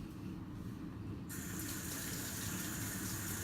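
Tap water runs steadily into a sink while a makeup brush is rinsed, a continuous close gush that brightens and grows fuller partway through.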